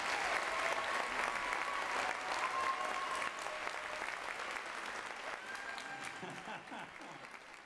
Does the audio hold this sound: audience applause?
yes